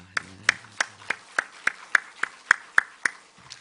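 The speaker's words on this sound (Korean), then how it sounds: "우리 하나님께 영광의 박수 올리겠습니다." A church congregation at an evening revival service claps in a steady, even rhythm, about eleven sharp claps spaced evenly and fairly close, with no talk over them.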